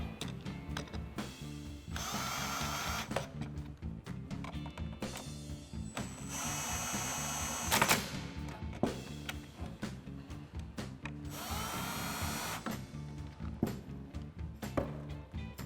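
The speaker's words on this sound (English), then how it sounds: "Once we have the 3 screws started by hand, we'll tighten them up." Power tool driving heat shield screws on a Jeep Wrangler JL 3.6L cold air intake, several short whirring bursts with ratcheting clicks between them, close up with pauses as each screw is tightened.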